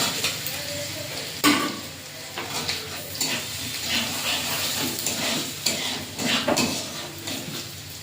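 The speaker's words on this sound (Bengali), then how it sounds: "তেলটা গরম হয়ে গেছে, এবারে দিয়ে দেবো রসুন, সেদ্ধ করা রসুন।" Boiled garlic cloves sizzle steadily in hot oil for a Bengali shol fish kalia, with the clatter of a spatula stirring against the pan and occasional sharp utensil knocks.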